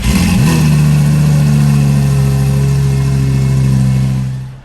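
A 2004–2008 Lamborghini Gallardo starts up with a quick rise as the engine catches, then settles into a loud, steady idle up close before the sound is cut.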